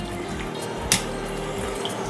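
Cold water poured to rinse freshly made rasagulla cheese, a continuous running, splashing flow with one brief louder splash.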